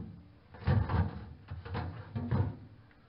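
Plastic drawers of a new refrigerator sliding open and shut, several soft thumps and scrapes close by in a quiet kitchen, with no talk over them.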